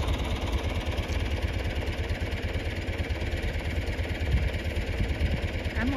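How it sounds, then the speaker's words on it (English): John Deere and Ford tractors, on a farm before being chained together for a tow, with their engines idling in a steady, loud low rumble that runs continuously with no pauses. "we are going to hook the chain between the John Deere and the Ford and pull it down the road"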